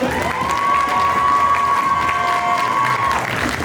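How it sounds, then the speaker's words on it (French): Audience applause and cheering at a cosplay contest awards ceremony for the jury's favourite prize winner, a steady loud wash of clapping and crowd noise with a sustained tonal hum running through. "vous pouvez l'applaudir bien fort."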